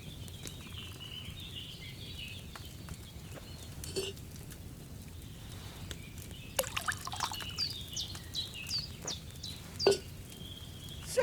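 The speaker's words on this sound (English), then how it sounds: "So, what did you pour in there? Wine, of course." Wine poured from a pitcher into a cauldron in Kingdom Come: Deliverance II, a faint trickling stream with small splashes and drips over a quiet ambient hum, with birds chirping in the background.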